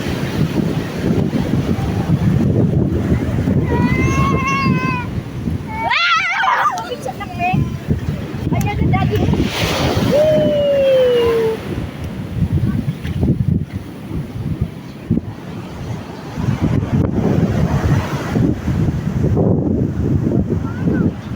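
Wind and ocean waves on a beach in Bali rush loudly and steadily across the microphone, with voices and chatter from people nearby throughout.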